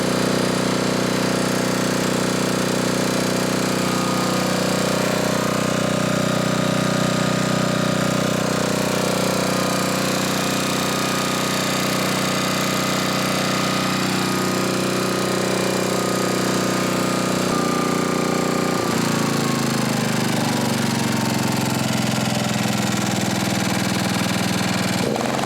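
A Homelite generator engine fitted with a new muffler runs steadily, a loud continuous mid-pitched drone with a faint rhythmic chug, shifting load slightly near the end and never stopping.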